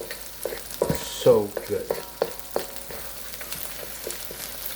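Bacon fried rice sizzles in a frying pan as it is stirred, steady frying hiss punctuated by scraping strokes and clanks of the utensil, close up, with a brief spoken comment.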